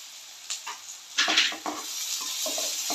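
Onion, bay leaf and grated ginger frying in a pan, a soft sizzle under intermittent clinks and scrapes of a spoon stirring against the pan.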